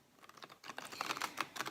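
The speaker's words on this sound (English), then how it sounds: "I want to give the cards a good shuffle." Tarot cards are shuffled by hand close by, a quick run of soft, papery riffling clicks that builds in density and loudness over a quiet room, with no voices.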